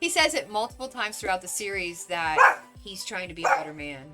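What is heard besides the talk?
dog barking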